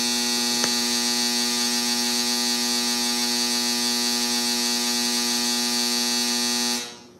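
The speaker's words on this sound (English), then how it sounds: "that's the dryer" Household clothes dryer running, a steady close mechanical buzz with a strong hum that holds level for several seconds, broken by one sharp click, before cutting off abruptly near the end.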